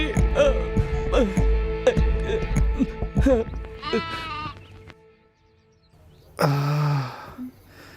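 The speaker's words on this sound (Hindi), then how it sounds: "मेरी बकरी।" A goat bleats loudly and close in a film scene, a single drawn-out wavering cry near the end following a dense stretch of throbbing music and other sounds.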